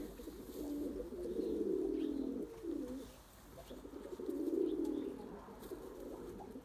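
Beyaz Candır tumbler pigeons coo in two long, close rounds of soft, throaty calls, each swelling then fading, with faint chirps in the background.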